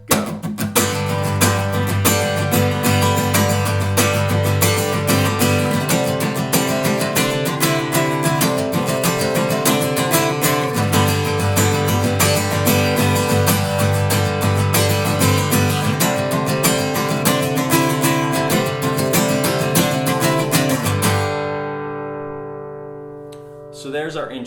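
Acoustic guitar plays the intro of a song in G, strummed chords woven with a lead melody line, steady and loud throughout before ringing out and fading near the end.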